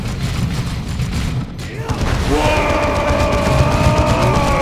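Gunfire and grenade explosions from the video game Warhammer 40K Dawn of War 2 rumble loudly throughout, with dense booms and bursts of fire that thicken in the second half.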